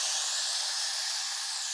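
Chopped tomatoes dropped into a hot tempering of spices in oil produce a loud, dense, steady hiss of steam and sizzle, close up and unbroken, with no voices.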